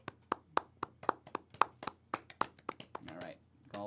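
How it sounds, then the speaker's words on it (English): Soft, polite golf clapping from a few hands, with about a dozen light, irregular claps in quick succession, followed by a bit of talk at the end. "Golf claps can stop now."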